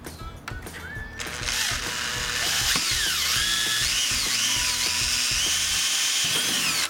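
A power drill bores holes into a car's bodywork to mount canards, its whine starting after a few clicks and rising into a steady, close grinding drone with shifting pitch as the bit bites.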